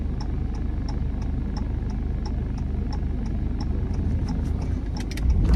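A 2016 Jeep Cherokee Sport with a 4-cylinder engine accelerates in traffic, its steady loud cabin drone and engine hum running throughout with a faint regular ticking, no voices.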